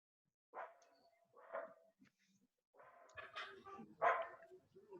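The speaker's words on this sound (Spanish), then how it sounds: "Qué bonita perrita." A small dog barks and yaps a few times in quick bursts, fairly quiet and somewhat distant, with short pauses between the bursts.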